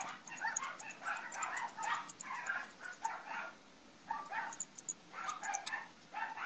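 Several dogs bark indoors in rapid overlapping bursts, loud and close, with short pauses between volleys and no talking.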